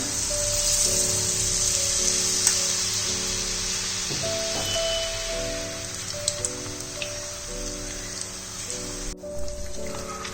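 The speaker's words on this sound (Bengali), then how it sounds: "তেলটা গরম হয়ে গেছে। এবার এর মধ্যে 1 হাতার মতন ব্যাটারটা আমি দিয়ে দিলাম।" Malpua batter sizzles in hot oil, a steady close hiss and crackle that runs throughout with a few brief clicks of spattering.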